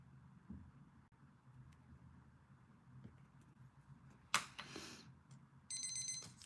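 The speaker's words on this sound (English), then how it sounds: "Once you hear the timer, guys, time has expired." An online antiques auction's countdown timer goes off when time expires: a short electronic ring toward the end, rising out of quiet background noise, followed by a brief trilling beep pattern.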